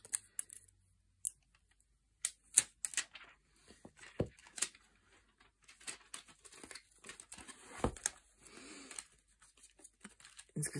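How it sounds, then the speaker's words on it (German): Protective plastic film peeled off a Lanhiem 360 waterproof IP68 case for an iPhone 11 Pro, heard as scattered close crinkles, snaps and tearing rustles in bursts, with quiet gaps between them. "Wir nehmen einmal hier noch diese Folie ab und hier vorne ist auch noch eine Folie."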